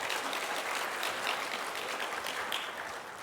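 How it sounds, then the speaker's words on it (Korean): Church congregation at a Sunday worship service applauding to welcome a newcomer: a brief, fairly soft but steady patter of many hands clapping in a large room, sustained evenly and fading slightly at the end. "박수 한번 보내주시고."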